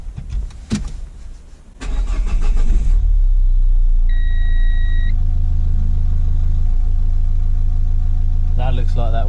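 A Renault Clio Mk3 cranks and starts up, then settles into a loud, steady idle close by, with a brief electronic chime partway through and a voice speaking over the start.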